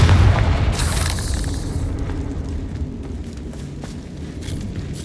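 A loud Confringo fire spell explodes in Hogwarts Legacy, a heavy booming blast at the start whose rumble slowly decays over several seconds, with faint scattered debris and footstep-like sounds trailing.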